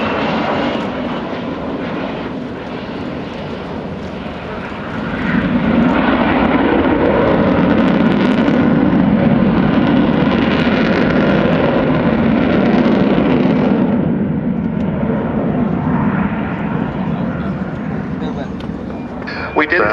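The Avro Vulcan XH558 delta-wing jet bomber flies at Yeovilton Air Day 2014, a loud, sustained jet roar that swells and holds for most of the span while a commentator talks over it.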